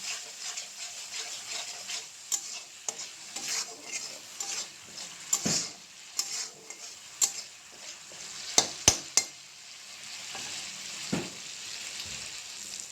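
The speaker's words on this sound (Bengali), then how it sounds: "জিরে গুঁড়ো, ধনে গুঁড়ো দিয়ে ভালো করে মশলাটা ভাজতে হবে।" Turmeric, cumin and coriander spice paste frying in oil, a low sizzle broken by scattered scrapes and clinks of a spoon against the pan, close and fairly quiet, no speech.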